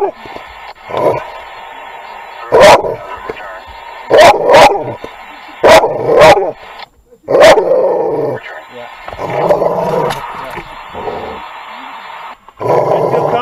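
A dog barks repeatedly in sharp bursts during an early-morning police call in Hyannis, with growls between barks and officers talking nearby.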